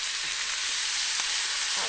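Balsamic vinegar sizzles steadily in a hot pan with asparagus and shallots, a bright, even frying hiss that holds for the whole stretch with no talking.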